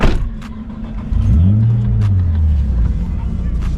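A turbocharged Nissan 350Z starts up and settles into a deep, rumbling idle, loud and close, with a short rev swell before easing back; a faint jangle sounds near the start.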